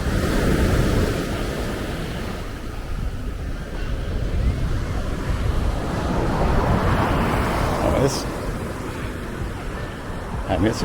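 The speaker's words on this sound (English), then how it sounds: "Listen to the ocean." Caribbean surf at Delfines Beach, Cancun, rolls in with a steady, broad wash of waves, partly masked by gusty wind rumbling on the microphone.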